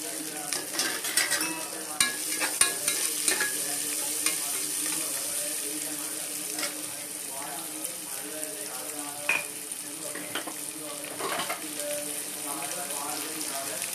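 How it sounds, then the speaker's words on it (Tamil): Onions frying in oil in a pressure cooker with mustard seeds and curry leaves, being stirred: a steady loud sizzle runs throughout with scraping stir clicks, no talk. "நல்லா வெங்காயம் வந்து பொன்னிறமாக வதங்கணும்"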